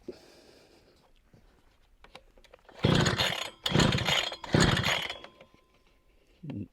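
A petrol-powered vineyard weeding machine being started: three loud, rough bursts of engine noise in close succession, each cutting out after about a second, with quieter handling noise before and after.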